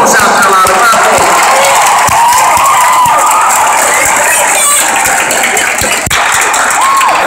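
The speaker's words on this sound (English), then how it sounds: "give you a huge round of applause" A large South Carolina crowd at a Christian music event claps and cheers loudly, a dense continuous roar of hands and voices with scattered sharp whoops.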